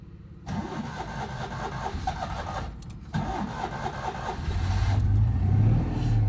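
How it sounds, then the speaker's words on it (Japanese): A Citroën 2CV's small engine cranks and catches after sitting for months, sputtering briefly before settling into a steady, close idle that rises slightly near the end. "はい、エンジンがかかりました。"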